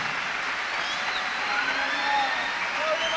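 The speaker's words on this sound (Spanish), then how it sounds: "un fuertísimo aplauso entonces para María" Crowd applause for María, a bingo winner taking the grand prize in Esquel, a steady dense wash of clapping with cheering voices mixed in, continuous and loud throughout.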